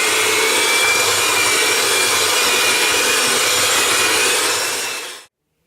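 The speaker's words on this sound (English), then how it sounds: "using an electric dough whisk with 2 dough hooks installed, I'm going to beat this until it goes to a silky smooth consistency" An electric whisk fitted with two dough hooks beats stromboli dough with a loud, steady motor whine and churning noise up close, running continuously before cutting off abruptly near the end.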